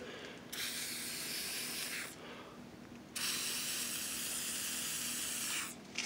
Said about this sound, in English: Go ahead and spray that mechanism.